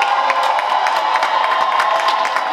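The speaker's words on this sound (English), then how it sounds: "Y'all make some noise for y'all self up there, all y'all" A balcony audience at a neighborhood comedy show cheers and shouts loudly and without a break, with whoops and scattered clapping making a dense, roaring crowd noise.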